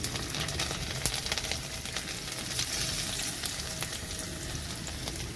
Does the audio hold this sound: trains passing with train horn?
no